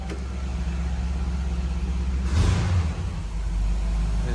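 The engine of a 1970 GMC C2500 pickup runs at a steady fast idle with a close, low rumble, then briefly speeds up in a short swell before settling to an even, slightly higher idle.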